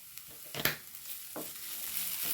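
Green chillies and garlic are stirred in a hot frying pan, a soft sizzle with a few scraping strokes of a spoon against the pan.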